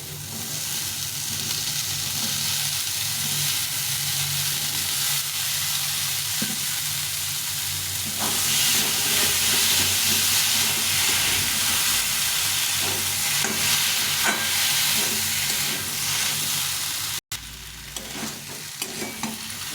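Boiled chickpeas are sautéed in a pan for ghugni, producing a steady loud sizzle that swells midway, with frequent scraping stirs of a spoon against the pan, close and with no talking.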